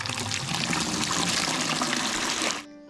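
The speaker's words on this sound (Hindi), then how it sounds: "घर के पास ये है हमारा नल और अब भर देते हैं हम बाल्टियाँ फटाफट।" Tap water pours steadily into buckets beside a house in an Uttarakhand mountain village, a loud, close, continuous gush that cuts off abruptly near the end.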